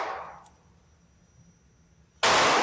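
A 1941 High Standard Model B pistol fires a single sharp, loud shot near the end, after a fading earlier report and a quiet pause.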